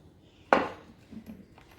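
Soaked chickpeas drop into a metal pressure cooker with a single quiet clatter and a short ringing rattle, followed by a few faint knocks.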